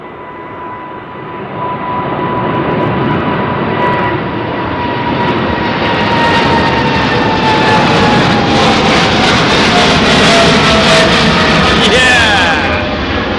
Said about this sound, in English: Turkish 777. No doubt. General Electric powered.